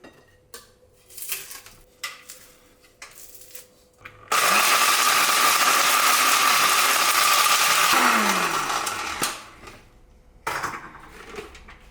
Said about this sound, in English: So we've got some dried bread that I'm going to stick in the blender.